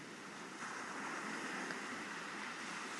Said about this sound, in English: listening to the sound of the waves moving back